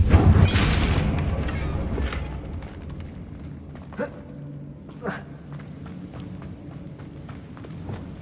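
A Confringo blasting spell in Hogwarts Legacy goes off against a damaged bridge as one loud booming burst with a rumbling tail, followed by a couple of softer thuds and quiet ambience.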